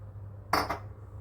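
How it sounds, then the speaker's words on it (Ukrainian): A spoon knocks against a pot once or twice while stirring a melting sugar mixture, a brief close metallic clink in an otherwise quiet kitchen. "Все це перемішуємо."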